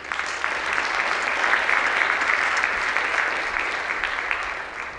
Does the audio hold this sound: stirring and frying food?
no